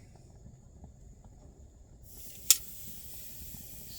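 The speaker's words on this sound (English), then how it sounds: "Sizzle, sizzle." Deer meat cooking slowly on a grill gives a soft, steady sizzle that starts partway through after a quiet stretch, with one sharp pop near the middle.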